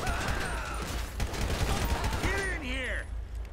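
Gunfire in the video game GTA 5 crackles in quick bursts amid game noise, with voices talking over it.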